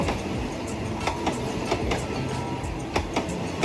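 A Thai passenger train rumbles past nearby on its way into Makkasan station, with rhythmic clickety-clack of wheels over rail joints and a steady mechanical roar.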